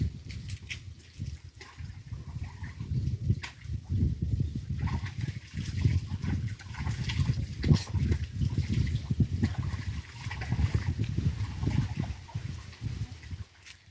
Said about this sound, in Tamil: அப்படியே போட்டு சூப்பராக கழுவு போறேங்க